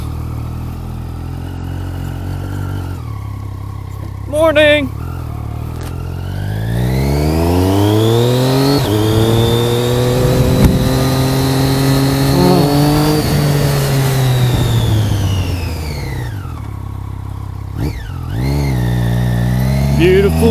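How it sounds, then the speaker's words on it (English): A Triptumph Street Triple R motorcycle pulls away and accelerates through rising gears, engine pitch climbing and sweeping up close and loud, with a brief greeting spoken and wind noise around it. "Time to go ride some motorcycles."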